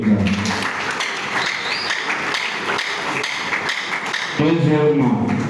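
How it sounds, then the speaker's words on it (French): Scattered claps and taps ring out through a hall at a political party convention, a loose patter rather than a full ovation. A voice speaks over the last second. "Je pensais qu'on allait applaudir ça."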